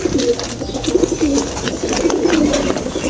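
Racing pigeons cooing repeatedly, a soft low warbling that rises and falls throughout, fairly close, over faint rustling background noise.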